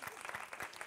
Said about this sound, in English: clap it up for Dr. Kumar.